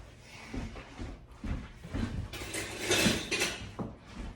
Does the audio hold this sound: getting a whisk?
yes